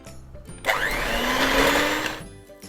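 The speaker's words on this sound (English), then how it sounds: "just whisk it over really quickly until it becomes kind of pale and fluffy" Room-temperature butter is whisked in a bowl until pale and fluffy for a vanilla sponge cake, a steady, close whirring that starts abruptly and runs for about two seconds before cutting off, with no talking.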